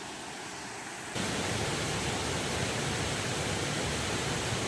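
A waterfall at a campsite at night roars as a dense, steady rush of falling water, loud and unbroken after a quieter opening second.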